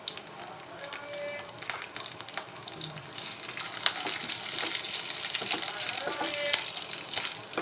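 Green chillies sizzle and crackle in hot oil in a pan, a steady close frying hiss with scattered pops throughout, fairly quiet.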